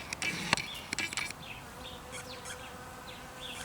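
A faint, steady bee drone hums outdoors among crocuses in late February, with a few brief chirps and clicks near the start.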